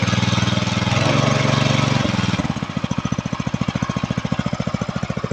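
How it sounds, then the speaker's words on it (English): A petrol water pump engine chugs steadily, loud and close, changing to a faster, even pulsing beat partway through as it pumps. No one speaks over it. "The machine is pumping."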